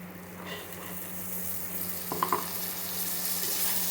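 Boiled field beans are stirred into a pan of frying kara kulambu, a soft continuous sizzle with a low steady hum beneath and a brief clatter of stirring midway.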